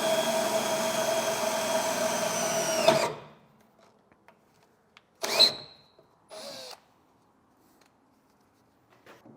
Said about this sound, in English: And then we'll come back through with a smaller pilot bit, and then eventually enlarge it up to this final size.